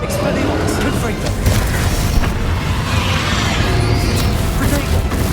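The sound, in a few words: Confringo fire blast spell from video game Hogwarts Legacy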